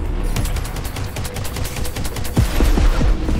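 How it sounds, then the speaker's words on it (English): Rapid bursts of gunfire from the Conqueror hand cannon in the video game Crackdown 3, sustained loud shots with heavier booming slugs near the end, alone without talk. "The Conqueror, a true hand cannon. Each slug packs a hell of a punch."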